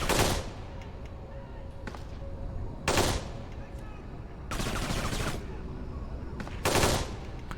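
Gunfire in the Kane and Lynch 2 shooter game: several sharp bursts of automatic fire, loud and spaced a second or two apart, with a low background rumble between them.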